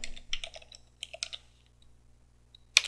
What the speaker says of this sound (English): Let's type in ifconfig again